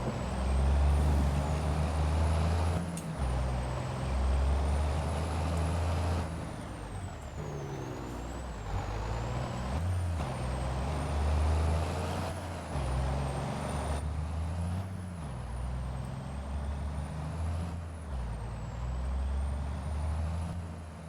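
A video game heavy truck engine with a 13-speed Eaton transmission drones steadily with rising and falling revs, broken by sharp hissing bursts from air brakes and a constant high whine.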